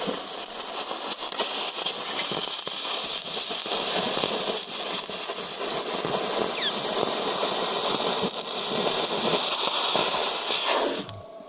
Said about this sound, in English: And I'm just cutting through the weld.